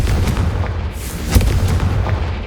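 A Confringo fire spell explodes in Hogwarts Legacy with a loud, deep rumbling blast and a sharp crack midway, the boom filling the whole moment.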